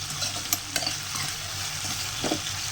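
Green vada sautéing in hot oil in a pan while making a tamarind kulambu gravy, a steady close sizzle with a few sharp stirring clinks of a spoon against the pan.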